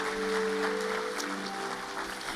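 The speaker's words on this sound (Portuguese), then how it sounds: "Você pode dar um aplauso a Jesus?" A church congregation at a Wednesday service claps in a steady, moderately loud wash of applause, with sustained musical tones ringing underneath.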